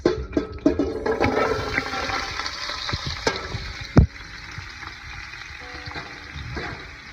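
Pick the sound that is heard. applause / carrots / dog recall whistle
carrots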